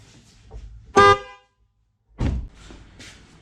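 A failing Volvo V40 car horn gives two short honks, the first a brief, harsh, strained blast with a thin, odd high-pitched tone and the second duller, separated by a moment of quiet and heard close up.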